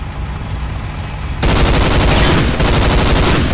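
Rapid automatic gunfire from a turret weapon in Counter-Strike: Condition Zero Deleted Scenes bursts in suddenly and blasts loud and continuous, dense and unbroken after a quieter lead-in.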